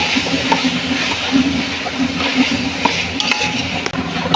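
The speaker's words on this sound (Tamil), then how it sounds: "இப்போ தக்காளிக்களை வந்து சேர்த்துக்கோம்" Tomatoes tossed into a hot frying pan for biryani and stirred, a steady close sizzle with scraping stir strokes running throughout, no voices.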